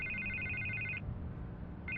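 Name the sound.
telephone ringing in Batman: The Telltale Series video game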